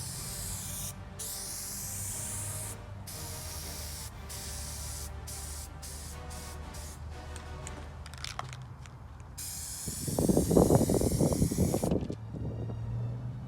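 A spray can applies self-etching primer to a trailer frame, producing close, steady hissing bursts with brief breaks, ending in a louder, rougher spray near the end.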